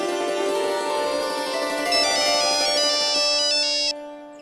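A melodic electronic phone ringtone plays loudly and close, a bright repeating tune that cuts off after about four seconds.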